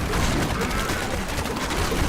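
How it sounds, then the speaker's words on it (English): Demon Hunter rockets firing in Diablo 3, a dense, unbroken barrage of rapid bursts and pops, loud and continuous throughout. "Let's see these rockets firing."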